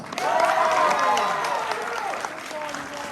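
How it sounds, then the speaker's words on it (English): An audience at an annual pageant applauds the makers of a jacket, with cheering voices rising over steady clapping that holds strong and then gradually eases. "Can we all give them a little round of applause?"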